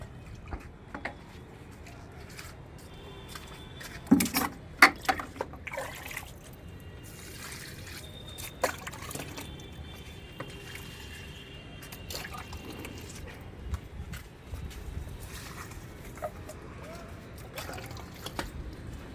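Water trickles and drips onto vegetable and flower plants in a home garden, heard as faint scattered droplets and a soft steady dribble, with a few louder splashes early on.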